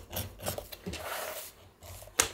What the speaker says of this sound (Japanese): 裏側は両端は縫い合わせるので両端1センチを外したその間をへり落とししていきます